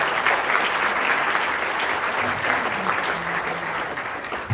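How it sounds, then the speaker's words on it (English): An audience at a student achievers' meet gives sustained applause for honoured students, a continuous dense roar of clapping that holds strong before tapering slightly near the end. "Can we please have a big round of applause for all of them?"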